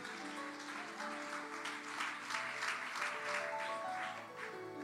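Church congregation applauding during a French-language Sunday sermon, a steady, dense wash of clapping that swells slightly in the middle and holds at moderate level throughout, with faint voices and musical tones underneath.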